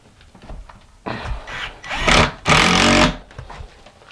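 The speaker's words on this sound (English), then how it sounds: "And now I'm using cement board screws" Cement board screws driven in with a power driver while installing cement board on a shower wall, heard as two loud bursts of whirring motor noise close by, the second longer and steadier, with softer handling sounds around them.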